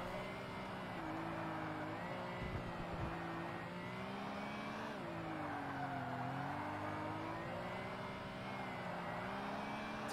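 A Ferrari race car in Forza Motorsport on a replica of Mount Panorama roars past with a steady, droning engine note that rises and falls slightly with each gear, alone and at moderate volume.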